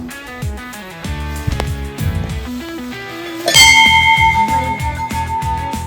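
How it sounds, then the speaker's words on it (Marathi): A bell rings with bright metallic strikes, clanging several times with lingering ringing tones, up close and fairly loud. "आणि हा माझ्या मामाने दिलेला घंटा"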